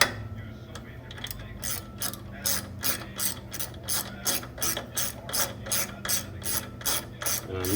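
A hand ratchet clicks in a steady, evenly spaced rhythm as it tightens the bolt that pulls a bicycle crank arm back onto its spindle, close and moderately loud over a low background hum, with no talking.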